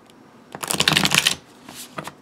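A deck of thin, long medicine cards is riffled close up in one dense, crisp flutter lasting under a second, then lighter card handling and a soft swish follow.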